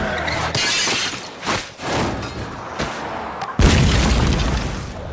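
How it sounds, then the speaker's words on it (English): Cartoon flare gun going off inside a truck, a string of crashing, shattering impacts and thuds ending in a big booming blast that rumbles on, loud and close. "the only time he seemed bothered was when Stewie started playing with his flare gun"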